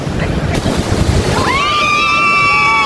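Waves and surf rush and crash close by under blustery wind noise, then a rising high whistling tone comes in partway through.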